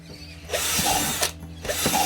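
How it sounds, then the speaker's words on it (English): A power drill bores drainage holes into a plastic bucket for a worm farm, two short whirring bursts close by, each with a brief grinding bite as the bit cuts through. "Now I'm going to drill holes in our top base one."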